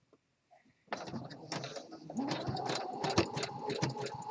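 After a couple of soft knocks, a home sewing machine starts up and runs steadily, sewing an elastic waistband onto boxer briefs with a close, moderate mechanical whir.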